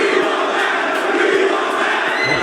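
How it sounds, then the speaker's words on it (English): A large wrestling crowd at a Ring of Honor event boos Jeff Hardy after his triple threat match win, a dense, loud, sustained roar of jeering voices filling the arena. "even in victory, he was met with more overwhelming boos"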